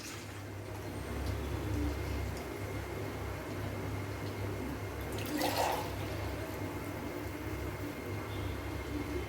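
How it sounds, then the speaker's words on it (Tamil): Coconut milk poured into a cooking pot while making a medicinal rice dish, with a brief soft splash and pour near the middle of an otherwise quiet kitchen background. "அந்த தேங்காய் பால் ஒரு உலக்கு தேங்காய் பாலை நான் வந்து இந்த பாத்திரத்தில் சேர்த்துக்கிறேன்"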